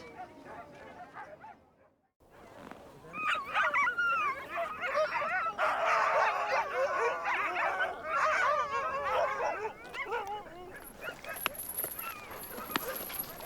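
A pack of Arctic sled dogs in Nunavut barks, yips and whimpers excitedly together, loud and continuous after a brief quiet start, with high whining cries throughout.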